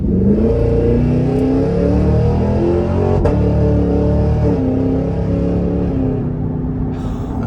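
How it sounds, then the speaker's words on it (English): A loud, close supercharged 6.2-litre V8 in a 2024 Cadillac Escalade V revs up and roars as it accelerates, its pitch climbing in steps, with a sharp backfire pop from the exhaust midway. "I love that backfire from the exhaust, or cackle I should say"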